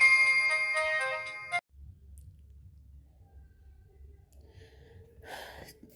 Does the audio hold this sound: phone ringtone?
yes